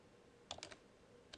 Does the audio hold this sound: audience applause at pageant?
no